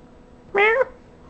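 A house cat gives one short, clear meow from close by, set against a quiet room.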